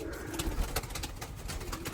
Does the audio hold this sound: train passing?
no